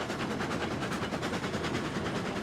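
A train from the railroad game Railroads Online rumbles loudly and steadily with a dense roar and a rhythmic clatter, continuous throughout with no pauses and no voices.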